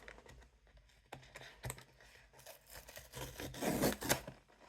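A blind box pull tab is torn open, giving a run of scratchy ripping and rubbing bursts that build toward a louder, rough tearing near the end, close to the mic with no talking.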